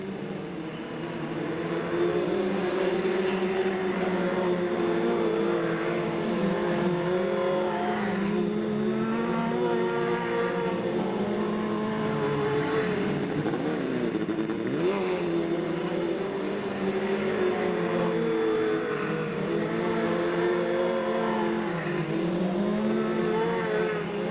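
Race cars circle the Delta Speedway oval in a steady, continuous engine roar, several motors droning together with shifting pitch as the pack runs its laps, loud and unbroken throughout.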